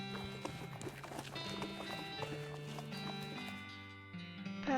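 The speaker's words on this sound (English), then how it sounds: "She neighs." A horse's hooves clip-clop in an even walking rhythm, mixed with a neigh, heard under sustained tonal music with a few sharp knocks, and no speech.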